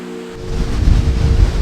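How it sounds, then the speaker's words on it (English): Swallow Falls in Wales, a 42-metre waterfall and the tallest in the country, pours with a continuous loud rushing roar that swells slightly and stays steady and close. "the first thing we're going to see today is Swallow Falls. It's the tallest waterfall in Wales, at 42 meters high"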